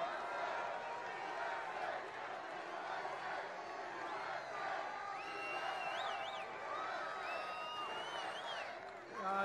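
A large crowd at a Donald Trump outdoor campaign rally in Swanton, Ohio, a broad, distant roar of cheering with scattered whoops and whistles rising over the steady din.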